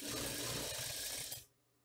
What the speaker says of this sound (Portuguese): eu vou passar aquela costurinha, tá? Pra tá me ajudando no acabamento